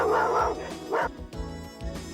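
Outside a family home, a dog barks in a few quick sharp yaps mixed with higher whining yips, close and fairly loud, with no one speaking.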